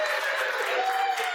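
Audience applause for a show host at a live comedy-style panel event, a steady dense wash of clapping held at even loudness throughout, with no voices over it.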